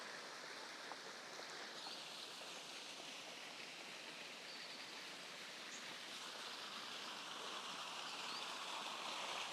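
Flowing water in Singapore's National Orchid Garden runs as a soft, steady trickling hiss, faint and continuous without speech.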